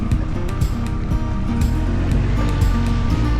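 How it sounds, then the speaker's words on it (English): A Triumph Tiger 1200 adventure motorcycle on street tires ploughs through a water crossing on a dirt road, a steady loud rush and splash of water over the low engine rumble, with no talk. "Whoa, water crossing."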